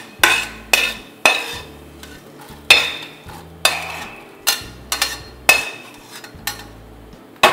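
Roasted flax seeds are stirred and scraped from a pan onto a plate with a metal utensil, making about a dozen sharp, evenly spaced clinks and scrapes, close and clear, with no talking.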